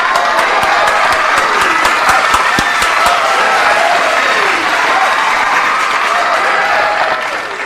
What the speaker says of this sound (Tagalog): Pumalakpak ngayon. Palakpakan naman.